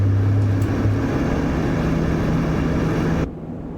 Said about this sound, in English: I've got 2 engines running.